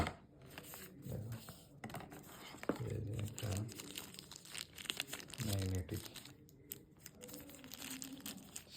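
A package is opened by hand, its wrapping crinkling and tearing in close, irregular bursts of rustle, with a voice talking intermittently alongside.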